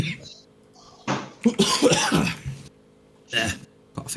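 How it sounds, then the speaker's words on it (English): A short burst of throat clearing and coughing in a casual tabletop game session, several rough bursts separated by pauses. "Coughing fit."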